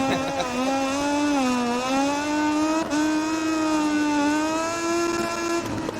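A racing motorcycle engine in the MotoGP20 video game holds a loud, steady high-pitched drone whose pitch wavers slightly as the throttle shifts, continuous and close for several seconds.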